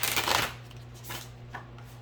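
A deck of oracle cards is shuffled close by in a quiet room, a short riffling flutter followed by softer card slides.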